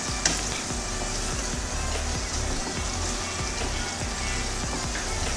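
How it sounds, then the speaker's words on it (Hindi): Whole garam masala spices and cinnamon fry in a pan, giving a steady close sizzle with faint crackles throughout, no voices. "साबुत गरम मसाला डाल के भी हल्का सा आप फ्राई कीजिए।"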